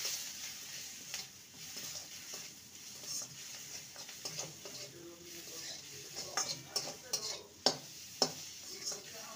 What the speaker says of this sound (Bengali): সামান্য জিরে গুঁড়ো আর গরম মশলার গুঁড়ো। ভালো করে নেড়ে নেব।